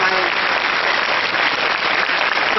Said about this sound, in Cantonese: 我哋用熱烈嘅掌聲，多謝我哋嘅導演黃樹輝。